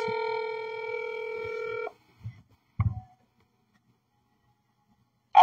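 A telephone ringback tone purrs steadily for about two seconds while a call is placed to someone, then stops, followed by a few faint handling bumps and a brief click at the end.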